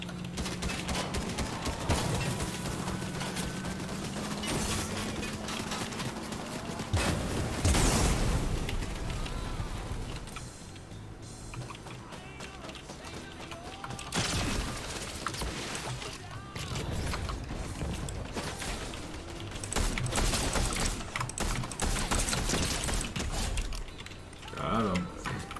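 Video game gunfire crackles in repeated bursts and scattered shots across a busy mix, with loud blasts near the start and middle, while players talk over the action.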